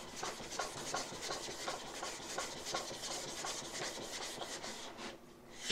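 The back of a hand tool is rubbed back and forth on a 300 grit sharpening stone to flatten it, making a rapid, rhythmic gritty rasping at close range with even strokes throughout.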